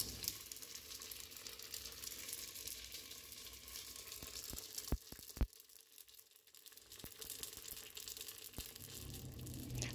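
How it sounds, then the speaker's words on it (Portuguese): Pastries sizzle in hot oil in a pan in a home kitchen, a steady close crackle and hiss throughout, broken by a few sharp pops and clinks, with no talking. "Agora tô fazendo, fritando pastéis, gente."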